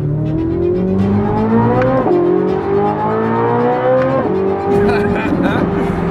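A 2023 Corvette Z06 engine revs hard toward its 8,400 RPM redline, loud rising howls broken by brief gear-change dips, climbing again in several pulls, close and dominant.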